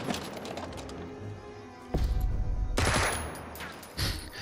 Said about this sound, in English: That's a lot of Overwatch shots and none of them...